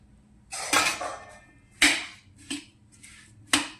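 Lemon pieces, gunda and raw mango being stirred together for a Punjabi pickle, heard as a few sharp scraping clatters of a utensil against a bowl, spaced irregularly over a quiet background.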